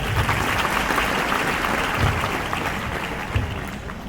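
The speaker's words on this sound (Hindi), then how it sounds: "इन छात्राओं के लिए 2 लाख तालियां हो जाए।" An audience at a school farewell ceremony applauds the students, a dense, loud, sustained wash of clapping from a crowd that tapers slightly toward the end.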